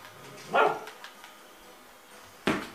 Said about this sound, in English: Whenever I stand up, he seems to bark more.